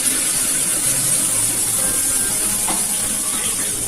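Water left from washing peanuts is poured into a hot pan of ridge gourd and potato curry, raising a steady, close, loud sizzle and hiss that holds evenly throughout with no talking.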